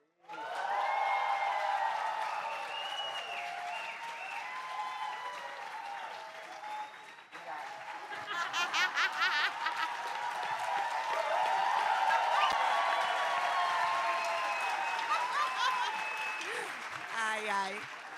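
Audience applause at a talk on strategic communication, a sustained crowd of clapping for the whole stretch with a swell of denser, louder clapping midway, steady and fairly close.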